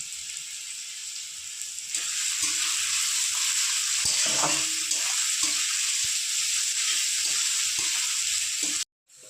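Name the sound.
garlic and onion frying in oil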